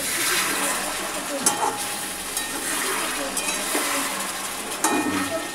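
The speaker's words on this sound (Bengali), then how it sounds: "দেখুন খুন্তি দিয়ে ভালো করে নেড়ে নেওয়া হবে।" Chicken meat is stirred with a spatula in a frying pan: repeated scraping strokes over a steady, close sizzle of frying, continuous for the whole stretch.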